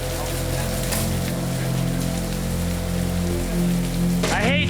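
Steady heavy rain pours onto a hard surface in New Orleans, a dense continuous hiss with a low rumble beneath, loud and unbroken throughout.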